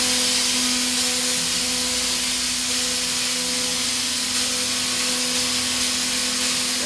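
Haas DT-2 CNC drill-tap machine running with its spindle cutting, a steady loud broadband whir with constant tonal hum lines, unbroken throughout and without speech.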